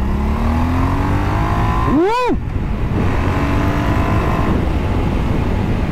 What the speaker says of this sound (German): 1200 Kubik, 120 Newtonmeter und 90 PS. Der bekannte und bewährte Bonneville Motor